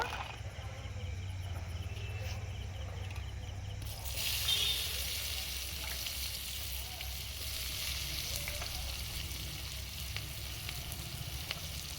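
Chopped onions frying in oil flavoured with whole garam masala, dried chilli, bay leaf and a little sugar, for a mutton, liver and gizzard curry; a steady, soft sizzle with a brief louder burst as the onions go in.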